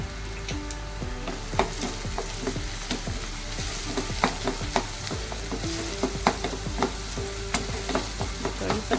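Curry leaves sizzle in hot oil for a tempering of a sprouted field bean curry, a dense, continuous frying crackle broken by frequent spoon scrapes and stirring knocks against the pan.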